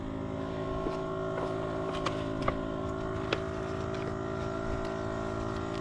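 A portable air compressor with jump-starter function runs steadily while inflating a tire after a nail puncture, a continuous droning motor hum with a few small clicks, no talking.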